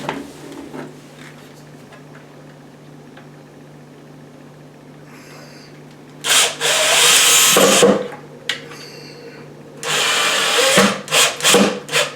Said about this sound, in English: then we're going to screw the actual spring latch into place